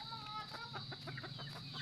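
A Shamo rooster clucks in short, soft, repeated calls, faint and fairly close, over a steady background hum.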